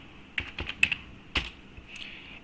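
Keys tapped on a computer keyboard while typing a command into a Windows terminal, a quick run of several close, light clicks followed by a few softer taps, no talking.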